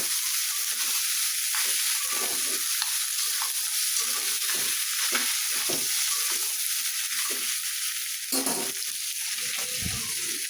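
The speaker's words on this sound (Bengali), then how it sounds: "একটু আলুর সঙ্গে মিশিয়ে নিই আর একটু ভাজা নিই।" Potatoes and meat fry in a pan with a loud, continuous close sizzle, broken by repeated scraping stirs and spatula knocks, no talking.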